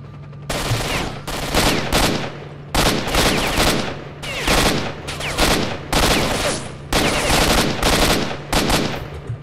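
Loud automatic gunfire in S.T.A.L.K.E.R. Shadow of Chernobyl, fired in repeated sustained bursts of roughly a second each separated by short pauses, close and dominant throughout.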